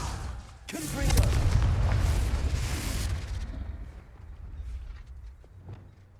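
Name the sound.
Confringo blasting spell explosion, from Hogwarts Legacy video game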